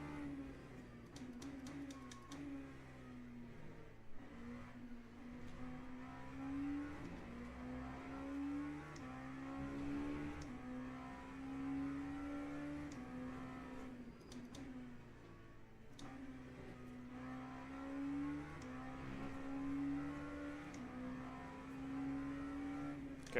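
Ferrari race car engine in Le Mans Ultimate, a faint, steady high engine whine that rises and falls repeatedly through gear changes around the circuit.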